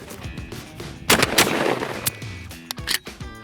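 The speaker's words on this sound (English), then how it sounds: "I want to see if I can get 3 shots off though" Shotgun shots fired outdoors during a freezing-weather test of gas versus inertia actions: two loud, sharp blasts about a third of a second apart, then a third report near the end, separated by mechanical clatter and handling noise.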